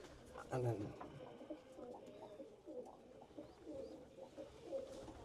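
Soft, low pigeon coos repeat intermittently, faint and close, with a brief louder burst near the start.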